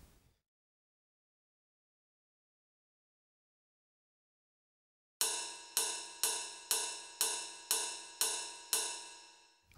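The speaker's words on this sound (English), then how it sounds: "And now we'll go for this timbal." Timbale drum pattern programmed in SunVox music software, entering after about five seconds of silence as a steady run of bright, ringing metallic hits at an even rhythm, loud and alone.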